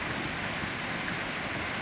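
Summer storm rain bounces off a children's playground in a steady, soft hiss of countless drops, even and unbroken throughout, with no voices.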